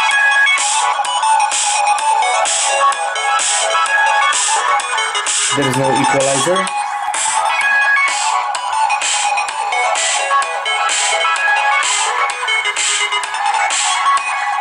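Dubstep plays loud and bass-heavy from the built-in speaker of a Nokia Lumia 920 phone, with a steady pulsing beat all the way through and a brief spoken remark about midway.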